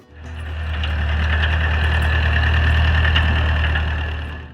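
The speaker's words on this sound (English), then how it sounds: "an engine warming up while the day is still quiet" An old small-farm tractor engine warming up, a steady loud low diesel throb with a knocking idle rhythm that swells in at the start and holds evenly close by, with no voices.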